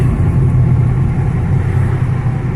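A car drives through Kharkiv's Saltivka district near Barabashova market, a steady loud interior road rumble and engine drone with no break in it.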